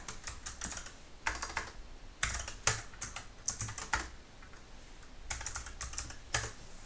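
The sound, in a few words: typing code on a computer keyboard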